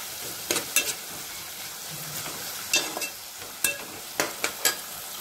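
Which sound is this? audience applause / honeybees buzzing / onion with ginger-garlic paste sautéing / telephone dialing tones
onion with ginger-garlic paste sautéing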